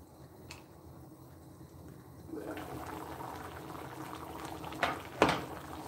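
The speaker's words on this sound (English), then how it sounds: "So look how it's boiling." Pumpkin mush bubbling in a pot on the stove, a steady close boiling hiss and gurgle that swells louder halfway through, with a couple of sharper pops near the end.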